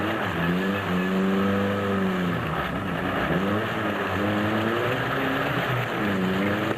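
Toyota Hilux race trucks, including a six-cylinder Class T and a four-cylinder Class E, roar through an off-road race at Rustenburg. Loud engine notes climb and fall repeatedly as the trucks rev and shift, continuous and close, with no talk.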